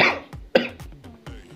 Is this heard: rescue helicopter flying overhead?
no